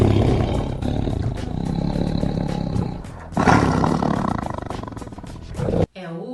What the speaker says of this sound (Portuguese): É o tigre.